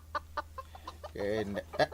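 Chickens cluck in short bursts close by, with one longer, drawn-out call near the end over a low steady hum.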